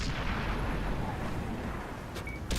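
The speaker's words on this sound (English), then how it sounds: "I take the shot on the little fella in the back." A single heavy cannon shot from a tank in a World of Tanks-style battle with a T29 booms and rumbles, fairly faint and distant, then fades, with a sharp click near the end.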